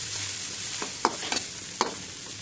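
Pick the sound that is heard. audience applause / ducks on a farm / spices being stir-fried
spices being stir-fried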